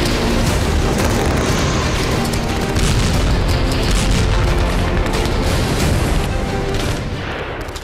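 Heavy shelling at the Israel-Lebanon border comes through as a dense, loud, continuous roar of booms and gunfire that stays dense throughout and eases slightly at the end.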